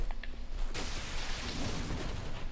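Lightning weapon buff in Dark Souls 3, a sudden crackling, rain-like rush that starts after a short pause and holds as dense static hiss, with no talking.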